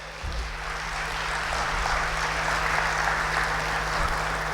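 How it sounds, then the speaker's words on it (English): Audience applause filling a hall after a memento presentation, a dense steady wash of clapping that holds at an even level throughout, with a low hum underneath. "A big round of applause for him."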